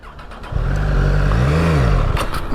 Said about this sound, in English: It sounds good when you rev it up.